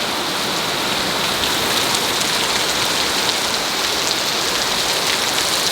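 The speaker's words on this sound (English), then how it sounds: "Now these are heavy, heavy, heavy droplets of rain." Heavy rain of big droplets pours down steadily, a dense, loud, continuous hiss and patter close by with no letup.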